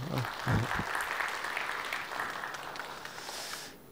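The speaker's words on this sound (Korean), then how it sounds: "박수 한번 쳐주세요" A church youth and young adult group claps together in a sanctuary, steady applause filling the room for about four seconds with a few voices mixed in near the start.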